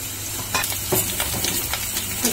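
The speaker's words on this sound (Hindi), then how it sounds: "ढोकली जो है इनको भी हमने देखिए फ्राई कर ली है।" Dhokli dough pieces fry in hot oil in a pan for Rajasthani masala dal, a steady close sizzle with a few stirring scrapes and clinks.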